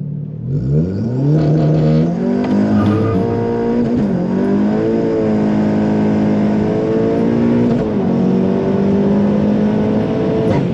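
A 510 BHP Audi S3 8V launching hard, the engine roaring loud and close as it climbs through the revs, with a brief dip at each gear change before it pulls on again.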